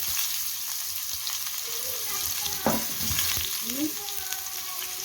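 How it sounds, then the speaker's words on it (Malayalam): Onions hiss and sizzle in hot oil with mustard seeds during tempering for a pumpkin erissery, a loud continuous fry close by with a few stirring scrapes partway through. "ഇനി നമുക്ക് ഉള്ളി ഇട്ട് കൊടുക്കാം"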